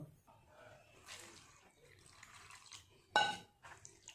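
Water runs over fresh chhena being rinsed in a bowl, with soft splashes and trickles and a brief louder pour near the end.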